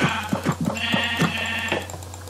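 Sheep in the video game Minecraft bleat in several quick, close, nasal cries, repeated over a couple of seconds above a steady background hum.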